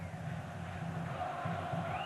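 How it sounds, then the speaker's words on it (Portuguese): Vasco fans in a packed São Januário stadium during a 1998 Libertadores round-of-16 match against Cruzeiro, heard as a faint, distant roar of crowd chanting and cheering with a steady rhythmic pulse. "É a festa da torcida do Vasco."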